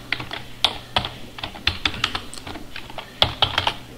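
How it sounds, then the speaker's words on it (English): Rapid typing of a PowerShell command on a computer keyboard, a quick run of crisp key clicks at close range with no talking. "So for that to happen is we need to type set hyphen AD"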